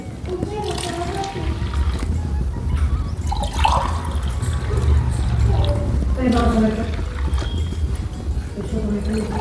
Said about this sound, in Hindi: तो अब इसमें हम पानी डालेंगे 3 गिलास